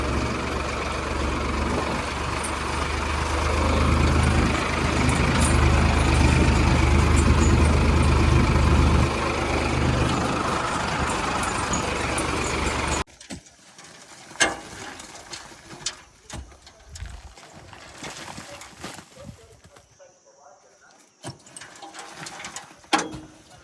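A tractor engine runs in a field with a loud, steady droning rumble for about thirteen seconds, then cuts out, leaving quieter scattered knocks and clatter.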